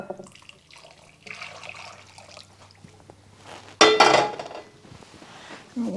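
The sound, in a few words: boiling water poured into bowl of strawberry jello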